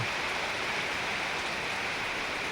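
Heavy Karthigai monsoon rain pours down in the Virudhunagar area, a dense, continuous roar of downpour with no breaks or voices.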